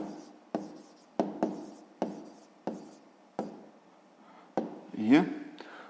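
A pen scratches out short strokes on paper during a sixth-grade maths exercise, a series of separate scribbles spaced about half a second apart, close and fairly quiet, with a brief squeak near the end.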